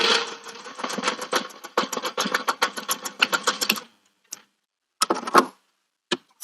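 Home sewing machine stitching a zipper divider pocket seam on a boxed corner bag, a rapid mechanical chatter of needle strokes running for about four seconds, then short separate bursts of stitching after pauses.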